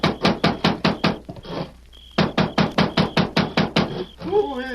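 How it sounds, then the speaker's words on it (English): Loud, close pounding on a wooden cabin door at night comes in two rapid series of heavy, evenly spaced blows with a short pause between them, followed by a voice. "he was surprised one night to be roused from his sleep by a loud pounding on the cabin door"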